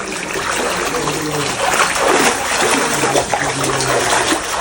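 Water trickles and drips steadily inside a cave, a continuous wet splashing wash with scattered louder drops, close and fairly loud throughout.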